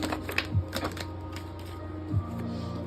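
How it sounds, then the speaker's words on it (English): Tarot cards are shuffled, a few quick papery riffles and taps close by, separated by short pauses. "Let's just start shuffling."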